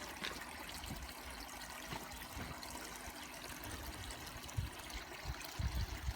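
Water trickles steadily into a koi pond filter tank as it refills, a faint continuous dribbling and gurgling with a few slightly louder splashes near the end.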